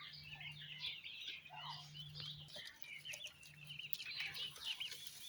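Young chicks cheeping in high, busy bursts throughout, with a low steady hum underneath, while they are handled for a Lasota vaccine given as drops.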